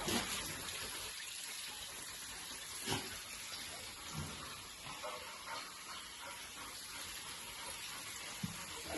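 Water splashes and gushes steadily as a Labrador plays in it and laps it up, a continuous broadband wash with a few brief louder splashes and no talking.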